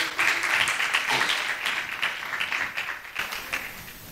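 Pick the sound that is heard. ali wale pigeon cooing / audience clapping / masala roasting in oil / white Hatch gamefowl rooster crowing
audience clapping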